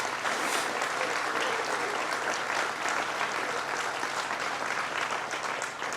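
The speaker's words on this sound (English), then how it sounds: "Let's give her a round of applause." Crowd applause at a New York State Fair announcement event, steady and even clapping from many hands that carries on without a break, heard from a moderate distance with no talk over it.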